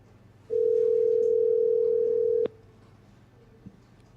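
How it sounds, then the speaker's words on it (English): A telephone rings on an outgoing call as a single steady ring tone that holds for about two seconds and then cuts off, leaving quiet room noise. "your phone go ring"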